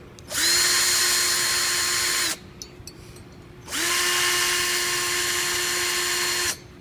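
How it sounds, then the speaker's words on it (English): A power drill bores a starter hole for a smartphone tripod mount in two loud, steady whirring bursts, each about two seconds long, separated by a short pause, with no talk. "With our drill, we first want to line and make a starter hole."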